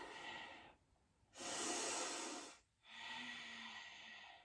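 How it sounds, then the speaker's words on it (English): Ujjayi breathing during a yoga flow, a slow series of audible hissing breaths with soft pauses between, one loud close exhale in the middle, no talk. "Breathing our Ujjayi breath."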